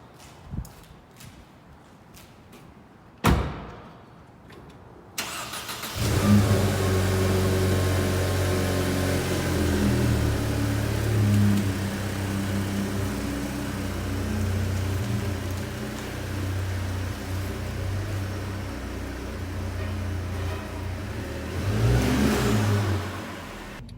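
A Mercedes C250 fitted with a JB piggyback tune for 20 extra horsepower. A few sharp clicks come first, then the engine bursts into a loud, sustained drone while driving, swelling again toward the end, with no talking.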